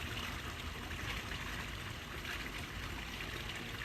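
Pool water during a 108-degree poolside outing, heard as a continuous close rushing trickle and gentle sloshing around a body sinking in, steady and fairly loud with no talking.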